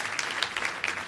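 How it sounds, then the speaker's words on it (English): Audience applause at a WordCamp US 2018 conference session, a steady wash of many hands clapping at moderate loudness with small swells, no voices on top. "One more big applause for Toru"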